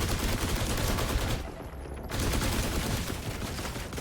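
Dense, continuous automatic fire from a ball-shaped enemy turret in The Last Caretaker game, loud and steady with a brief lull before resuming.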